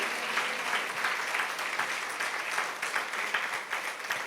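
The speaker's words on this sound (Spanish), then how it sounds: "¿Por qué no le da un aplauso" A church congregation at a women's breakfast applauds steadily, with dense, even clapping that carries on without a break and no voices over it.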